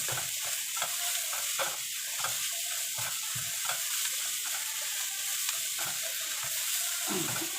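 Chili peppers stir-fried in a hot pan: a loud, steady sizzle with repeated scraping stirring strokes throughout.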